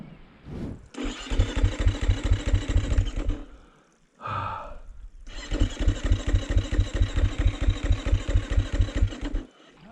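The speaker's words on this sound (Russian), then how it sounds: "Опять заглох, Дэн. Не заводится" Enduro motorcycle in the Yakutia wilderness failing to start, the starter cranking in two long rhythmic bursts of loud chugging pulses that never catch, separated by a brief pause with a short breathy sound.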